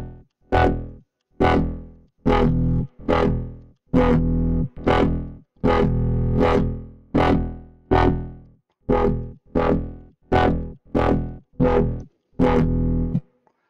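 Synthesizer notes widened with a delay layer on top, about a dozen loud, distorted, buzzing tones in a regular rhythm, each cut off with short gaps between, close and alone.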